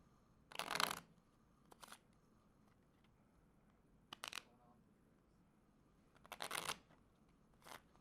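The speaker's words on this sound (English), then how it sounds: "Now you don't have to really shuffle it, but just give it a mixing. If you can shuffle it, shuffle it." A deck of playing cards being shuffled at a table, heard as four or five short riffling bursts separated by pauses, close and fairly crisp, with no talking.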